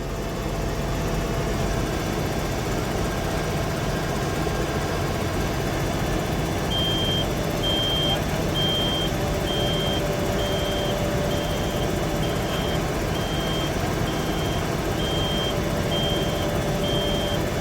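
A backing vehicle sounds a steady series of evenly spaced reversing beeps over a loud idling heavy engine, with the beeping starting partway through and continuing to the end.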